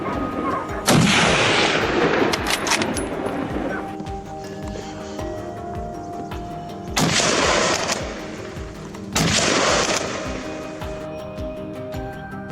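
Rifle shots fired at wild boars during a mountainside hunt, three sharp loud cracks spaced a few seconds apart, each with a rolling echo, over a low background hum.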